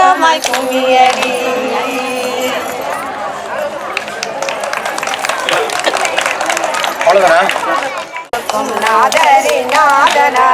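Rhythmic group hand clapping for a kummi folk dance at an Aadi Perukku festival in Kumbakonam keeps a steady beat. Voices sing loudly over the claps throughout, with a brief break near the end.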